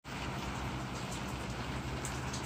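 Heavy rain pours steadily on a downpour day, a dense, continuous hiss of drops drumming on surfaces, loud and close with no pauses and no voices.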